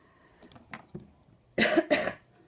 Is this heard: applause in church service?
no